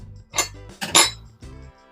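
Kitchen pans clink and clank as they are set on the stove, three or four bright metallic knocks with short ringing tails and a low resonant hum between, close and alone.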